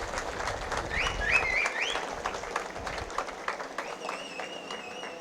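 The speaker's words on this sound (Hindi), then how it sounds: "एक बार ताली बजा दीजिए सब लोग इनको" An audience applauds at a political speech at the launch of a polyclinic in Goa, with sustained clapping from a crowd at moderate distance. Whistles and cheers rise above the clapping before it gradually thins out.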